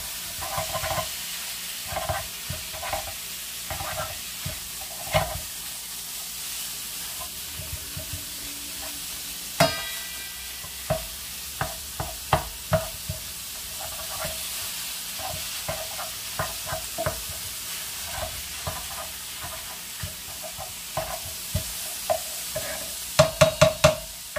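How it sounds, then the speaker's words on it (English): Meat browning in a pan gives a steady sizzle broken by frequent sharp taps and scrapes of a utensil, which grow louder and closer near the end, with no voices. "We're going to get this browned a little bit."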